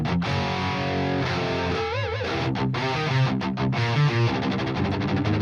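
A heavily distorted electric guitar plays a chugging, rhythmic riff with sustained crunchy chords and brief palm-muted stops, loud and close.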